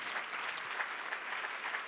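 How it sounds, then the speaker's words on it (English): Steady applause from a conference audience honoring a panel at a food security gathering, a dense, even wash of clapping throughout without voices. "just another round of applause, of course, for that incredible panel"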